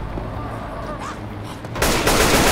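Gunfire in Left 4 Dead 2 with an unfamiliar weapon: a dense, loud burst of shots comes in at the end after a stretch of steady game ambience and faint voice.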